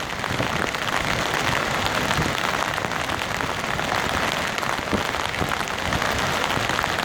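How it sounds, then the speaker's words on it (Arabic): Heavy rain pours down steadily in the Aseer region of Saudi Arabia, a dense, constant roar of drops with no pauses and no voices. "أمطار غزيرة جعلها الله أمطار خير وبركة"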